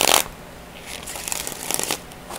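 A Game of Thrones tarot deck is shuffled by hand. A loud riffle opens the clip, followed by softer papery flicks and crinkles from the cards, close to the microphone, with no one talking.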